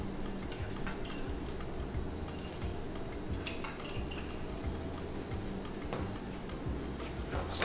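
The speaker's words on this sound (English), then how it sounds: "Stir that in." Jalapeno mayonnaise stirred into a hot pan with the flame off, giving a steady low sizzle with soft scraping and light utensil clicks against the pan throughout.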